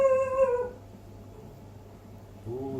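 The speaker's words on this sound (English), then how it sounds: "Oh, the dog's doing the guarding thing." A guarding dog lets out a drawn-out wavering howl that slides down into quiet, then starts a fresh whimpering whine near the end, close by with no talking.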